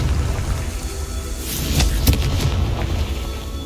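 Confringo blast spell from Hogwarts Legacy, heard as a few sharp bursts and a rumbling boom over a steady low, noisy game background, mid-level in loudness, no voices.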